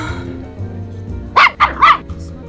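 A small dog barks three times in quick succession, sharp and close, after a stretch of quiet room tone, in an indoor scene that ends in a bite.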